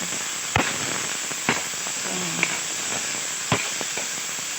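Ground meat sautéing in a pan until browned, a continuous soft hiss broken by a handful of sharp spattering pops spaced about a second apart.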